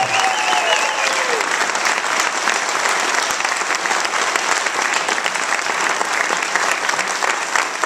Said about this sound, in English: Let's give a great big round of applause for everybody in the family.